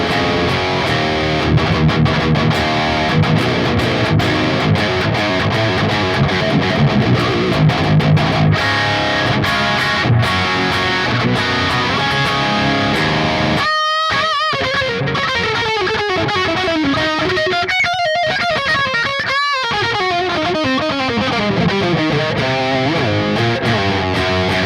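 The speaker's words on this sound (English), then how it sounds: "RVXX 4x12 sounds like this." High-gain electric guitar through an Audio Assault RVXX amp simulator with its default 4x12 cabinet impulse response, dense and distorted, with sustained chugging riffs, brief choked stops and ringing bent lead notes, loud and continuous.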